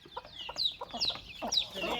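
A mother hen with young chicks clucks close by in a quick series of short, throaty calls mixed with higher squawks.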